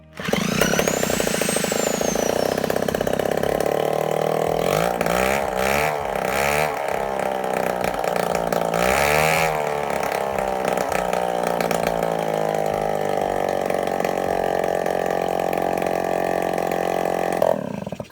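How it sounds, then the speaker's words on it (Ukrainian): A scooter engine, running again after its carburetor was replaced, settles into a steady, loud idle with a buzzing drone that holds for the whole stretch, showing small revving wobbles partway through and no talking over it. "він завівся і почав тримати холості оберти"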